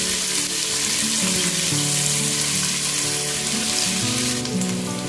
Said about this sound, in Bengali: এবার পেঁয়াজটা দিয়ে আমি খুব ভালোভাবে ভেজে নেব।